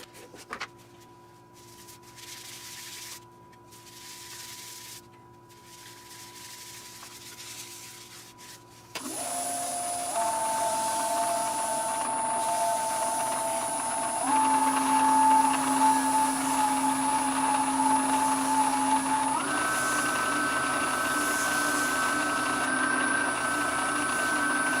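A wooden bowl is buffed with Axe abrasive paste on a powered buffer, which gives a steady mechanical whine that jumps up and shifts pitch in several stages. The sound is continuous and close, with no talking.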